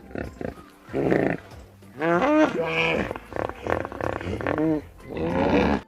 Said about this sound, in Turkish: Su aygırları böyle ses çıkarır.